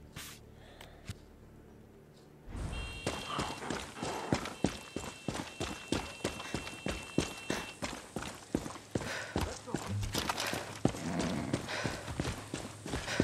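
A horse gallops in Far Cry 6, a steady rapid clip-clop of hooves starting abruptly after about two and a half seconds and continuing loud and rhythmic to the end, with occasional snorts.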